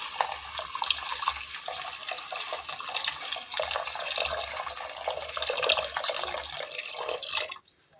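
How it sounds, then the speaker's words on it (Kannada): Water poured into a pan of Maggi noodles with the masala powder already added, a continuous close splashing trickle that stops abruptly at the end, without talk. "ಈಗ ಅದಕ್ಕೆ ನೀರು ಹಾಕ್ಕೊಳ್ಳೋಣ"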